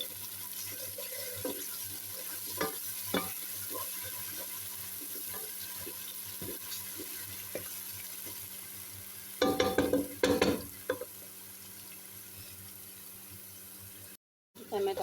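Ground garlic, ginger and onion frying in a pan, a soft steady sizzle broken by scraping stirs and a brief louder clatter, with talking over it and a short dropout near the end.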